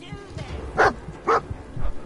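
A dog in the video game Fallout 4 barks three times in short, evenly spaced woofs, mid-distance, with a voice talking around them.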